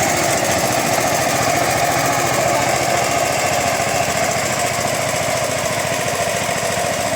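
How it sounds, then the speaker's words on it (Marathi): A tractor engine working a paddy field for rice planting runs loud and steady nearby, a constant rumbling, knocking drone with no pauses or voices. "भाताच्या लावणीसाठी ट्रॅक्टरने काम चाललं आहे"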